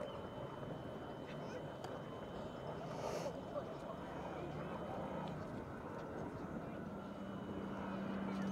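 A Griffon-engined aircraft flies at the Bradwell Bay airshow, heard as a faint, steady distant drone against the outdoor background.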